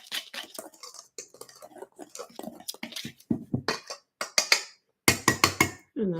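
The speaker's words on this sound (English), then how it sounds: "I'm whisking this all together." Batter being whisked in a bowl for home baking: quick bursts of clinking metal strokes against the bowl, close and crisp, broken by short pauses, the last flurry forming a fast rhythmic run.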